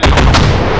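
Loud gunfire in the military video game ArmA 2 with the ACE mod, a rapid burst of three close, sharp shots with a booming low-end tail that rings out to the end, no talking.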